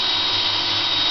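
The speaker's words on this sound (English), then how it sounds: "Now this is the drill at full capacity" Power drill running at full speed, spinning a replica Back to the Future DeLorean speedometer: a steady, loud, continuous motor whine with no breaks.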